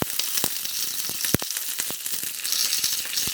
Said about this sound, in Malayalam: ചൂടായ വെളിച്ചെണ്ണയിലേക്ക് നമുക്കൊരു കറിവേപ്പില ഇട്ട് കൊടുക്കാം